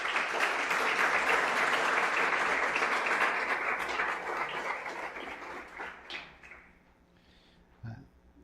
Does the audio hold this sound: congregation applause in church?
yes